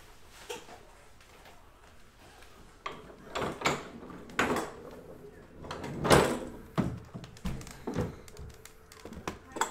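A sealed case of 2019 Panini Select Football cards is torn open up close, giving scattered tearing and cardboard thumps that grow denser and louder, with a sharp burst of ripping midway.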